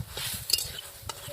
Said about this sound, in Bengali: তো ডালটা আমি খুব ভালো করে আস্তে আস্তে নেড়ে নেড়ে ভেজে নেব